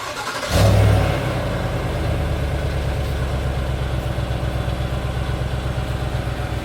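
A Cadillac Escalade on its stock exhaust gives a short, loud engine rev up front. It then settles into a steady, throbbing idle that runs to the end.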